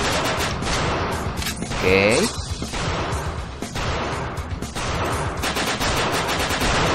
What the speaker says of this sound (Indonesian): Proyektil senjatanya kayaknya berhamburan kemana-mana